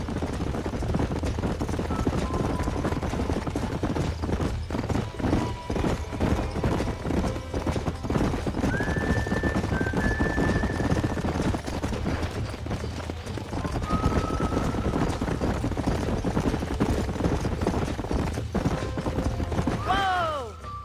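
Horses in Red Dead Redemption trot with a steady, close clip-clop of hooves throughout, broken by occasional whinnies and neighs, with a louder neigh at the very end.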